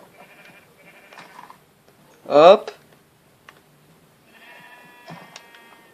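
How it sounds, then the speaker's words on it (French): A single short sheep bleat in Adventure Craft rings out clearly, loud against quiet background tones, with a brief spoken word nearby. "Des moutons!"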